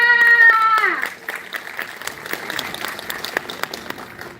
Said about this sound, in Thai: Please welcome and give a big applause.